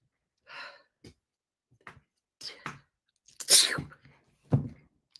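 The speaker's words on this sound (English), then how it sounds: "I feel like I have to sneeze." A single sharp, explosive sneeze bursts out close to the microphone, preceded by a few short breathy gasps and sniffs in an otherwise quiet room.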